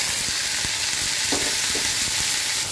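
Chopped bottle gourd sizzles loudly and steadily in a hot pan with oil and turmeric, with occasional soft stirring scrapes over the continuous hiss.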